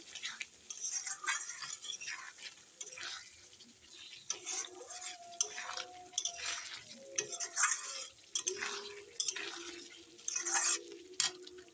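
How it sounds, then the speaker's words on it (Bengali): Potato and pointed gourd stirred with turmeric and salt in a pan: soft scraping and light clinks of a spoon against metal recur irregularly, close but fairly quiet, with faint background hum and no speech. "লবণ দিয়ে দিলাম হলুদ লবণ দিয়ে এখন ভালো করে নেড়ে নেই"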